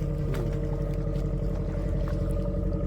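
A ship motoring along a river in the Sundarbans, its engine a steady low drone with tonal hum that holds evenly throughout, close and continuous with faint water wash.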